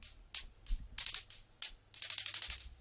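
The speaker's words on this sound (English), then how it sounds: "they are in fact oscillators made with operator as well. And they're just like plain white noise." Plain white noise from synthesized oscillators sounds in short, sharp bursts, a rhythmic pattern of hissy static hits with a faster run of repeated bursts near the end, fairly quiet.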